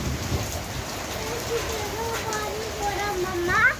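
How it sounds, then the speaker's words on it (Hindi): Steady rain hisses and patters close by, with a low rumble beneath and a few brief bird-like chirps near the end. "हाँ बारिश हो रही है।"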